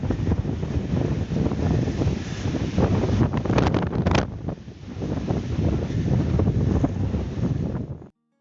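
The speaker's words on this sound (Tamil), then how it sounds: "கையில் ஃபோன் கூட பிடிக்க முடியல, பயங்கரமாக காற்றடிக்குது." Fierce wind blasts across the hilltop at Viboodhi Malai near Masinagudi, a loud, continuous roaring buffet on the microphone with a brief lull midway before cutting off abruptly, with no talk.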